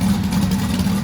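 A car engine idles steadily after a disc brake conversion, a loud, continuous low rumble holding an even pitch with no talk over it.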